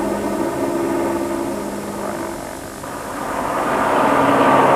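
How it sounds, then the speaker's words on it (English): A steady helicopter engine drone with a low rotor hum, loud and continuous, swelling slightly toward the end; no voices. "In the helicopter and returning to the bivouac."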